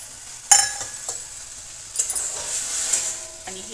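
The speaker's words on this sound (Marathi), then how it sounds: "आपण थोडंसं तीळ घेतलेलं आहे दोन चमचे ते सुद्धा आपण तेलामध्ये घालणार आहोत" Cumin powder and sesame seeds crackle and sizzle in hot oil, a light hiss with sharp pops, a bright burst near the start and more later, along with faint stirring and clinks.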